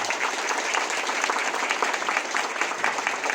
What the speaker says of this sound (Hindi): अभी हम खुद के लिए ताली बजाएंगे, तो अब आप हम खुद के लिए जोरदार ताली बजाओ